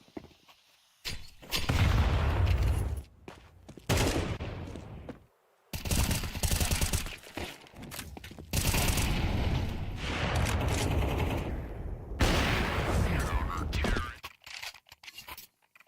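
Rifle gunfire in Counter-Strike 2 arrives as several dense bursts of rapid shots separated by brief silences, loud and close, with voices talking over parts of it.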